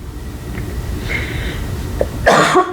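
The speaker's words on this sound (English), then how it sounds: "sorry, Pisces, I'm coughing." A person gives one loud, close cough near the end after a quiet stretch.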